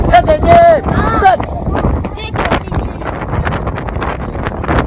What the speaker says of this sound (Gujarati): પવન બહુ જ છે.